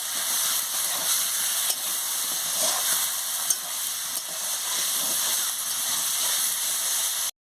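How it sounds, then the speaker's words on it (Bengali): Fried potato and pointed gourd sautéing with spices in a pan, a steady close sizzle and hiss with faint stirring scrapes running unbroken throughout. "আলু আর পটলটাকে ভেজে রেখেছিলাম দিয়ে দিচ্ছি মশলার সঙ্গে। দিয়ে মশলার সঙ্গে ভালো করে কষিয়ে নিচ্ছি।"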